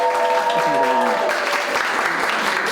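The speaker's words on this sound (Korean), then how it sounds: "저희와 함께 해주신 의원님께 다시 한번 큰 박수 한번 해볼까요?" An audience at a youth policy talk show held by a political party applauds a lawmaker: a voice speaks briefly, then a steady, loud wash of crowd clapping continues to the end.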